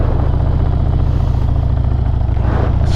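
A motorcycle's engine runs steady and loud close by as the rider eases on the throttle and lets out the clutch to pull away from a stop, with a constant low rumbling drone throughout.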